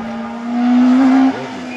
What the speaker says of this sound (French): joli passage de la part du pilote de la C2 numéro 145 à l'instant, là devant nous, il est en mode attaque